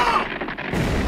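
A single booming blast from a cannon in the anime One Piece erupts near the start, followed by a rumbling roar and a second surge of noise.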